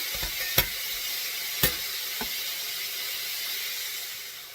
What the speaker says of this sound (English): this is still cooking and it's starting to brown up a bit